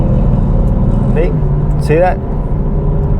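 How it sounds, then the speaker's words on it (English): A car engine rumbles close by with a low, steady growl, while someone speaks briefly over it. "Look at this guy just revving his motor right next to me."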